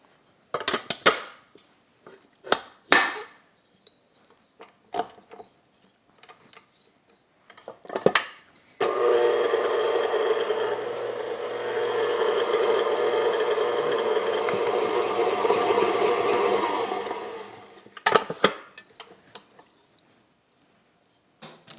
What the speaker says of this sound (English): we're gonna keep mixing it until all of the flour is combined